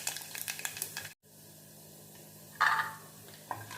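Mustard seeds, urad dal, chana dal and dried red chillies fry in hot oil for a ridge gourd milk curry, a close sizzle with crackles and one brief louder burst, no talking.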